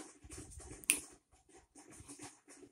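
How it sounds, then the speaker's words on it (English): A single sharp finger snap rings out near the start, close and crisp, set among soft rustling and small handling noises with no talking. "I'm gonna snap my fingers"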